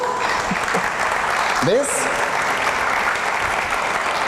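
Church congregation applauds during a sermon, a continuous crowd clapping that fills the background while someone speaks briefly over it.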